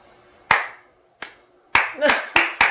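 Scattered hand claps from a few people in a tabletop RPG session, meant as an audience in a colosseum: sharp separate claps with gaps between them, then a quicker cluster near the end, a voice briefly under the clapping.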